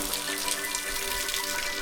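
Mountain stream in the German Alps flowing steadily in autumn with reduced water, a continuous broadband rushing wash heard alone at moderate level with no gaps.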